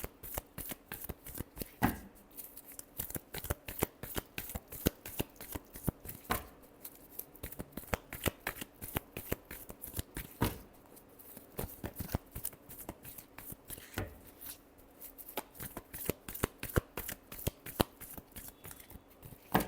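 Tarot cards being shuffled over and over, a steady stream of crisp riffling snaps close up, with no talk.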